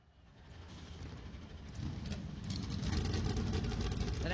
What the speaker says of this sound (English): The NASCAR Cup Series machines come to life on the pit lane.